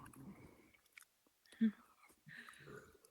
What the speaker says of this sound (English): You making me hungry, whatever you munching on.